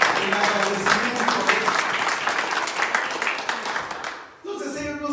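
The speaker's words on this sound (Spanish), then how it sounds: "Denle fuerte el aplauso al Señor en agradecimiento" Church congregation applauds during a sermon, a dense, loud, sustained wash of clapping that stops abruptly near the end, followed by a voice speaking.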